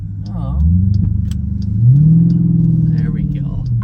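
A Jeep SRT's Hemi engine revs up under acceleration, rising in pitch, easing slightly, then climbing again, loud and near, with someone talking over it.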